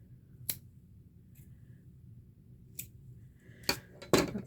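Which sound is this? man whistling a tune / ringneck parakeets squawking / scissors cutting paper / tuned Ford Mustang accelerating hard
scissors cutting paper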